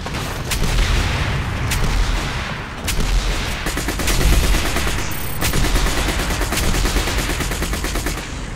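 Rapid gunfire from the video game Section 8: Prejudice, bursts of automatic shots rattling almost continuously over several seconds with a few sharper single cracks, loud and close.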